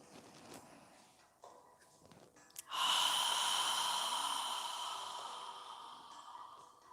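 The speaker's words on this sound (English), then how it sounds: "open your mouth wide and exhale as if you're fogging a mirror with" A long open-mouthed exhale during a yoga session, like fogging a mirror, preceded by quieter breathing and then a loud, airy breath that fades slowly over several seconds.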